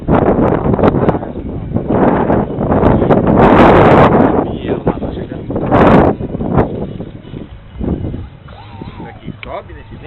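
Strong gusting wind buffets the microphone at a model airplane flying field, roaring in loud surges with brief lulls while people talk over it.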